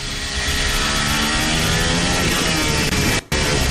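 An Alpine Formula 1 car engine failing catastrophically during the 2022 Singapore Grand Prix, a harsh, dense, loud mechanical roar that runs almost continuously with one brief dropout near the end.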